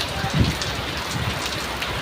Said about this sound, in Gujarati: ભાઈ, વરસાદ કેવો પડે છે? જોરદાર।